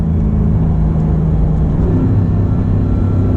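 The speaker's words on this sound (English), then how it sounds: "now we're going to downshift to second. And I'm short shifting a little just because I know I don't have the grip here." A 2016 Porsche GT3 RS engine rumbles steadily and loud up close as it downshifts to second gear, with a continuous low drone and no talk over it.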